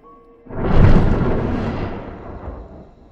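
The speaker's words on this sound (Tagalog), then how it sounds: "Maririnig mo ang dagong-dong ng kulog." A single loud rumble of thunder during very heavy rain swells suddenly, then rolls and fades slowly over a few seconds, deep and booming.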